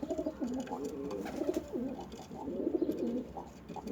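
Pet pigeons coo nearby in a bird loft, with repeated soft, throaty rolling calls overlapping in a steady rhythm.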